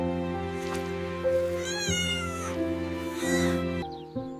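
A small, weak rescued kitten just freed from under a manhole cover meows and cries repeatedly, thin wavering calls close to the listener with no one talking.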